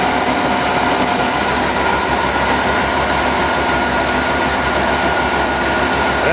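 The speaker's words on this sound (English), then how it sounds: "motor running an alternator" A motor driving an alternator in a field self-feedback loop setup with a xenon bulb load, giving a steady dense mechanical drone with a constant low rumble, loud and continuous throughout.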